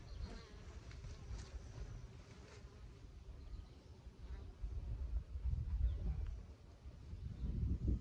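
Honey bees buzz around an opened backyard hive, a faint, wavering drone heard close to the microphone under gusts of low wind rumble, with no talking.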